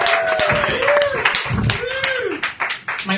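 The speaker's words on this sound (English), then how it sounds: "Clap it up" Audience clapping as a stand-up comedian is brought to the stage, a short burst of hand claps mixed with cheering and an emcee's voice, thinning out toward the end.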